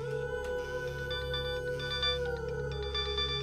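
A phone ringtone plays a repeating electronic melody over a low background hum, fairly quiet and steady, with no talking.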